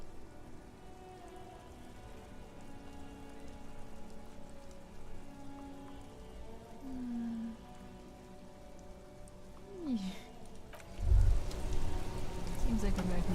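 Steady rain in the video game Disco Elysium patters on a surface throughout, with a few faint tonal sweeps and a louder rumbling burst near the end.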